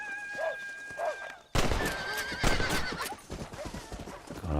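A horse in the video game Red Dead Redemption whinnies loudly and close, followed by hooves clip-clopping and game sounds.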